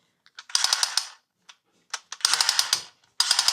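A toy automatic gun painted pink gives off short bursts of dry plastic clicking and ratcheting, three quick rattling runs separated by brief pauses and stray single clicks, close up with no talk.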